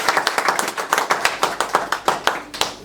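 A crowd at a UDPS party gathering claps in a quick, rhythmic beat, about a dozen sharp, loud strokes in under three seconds.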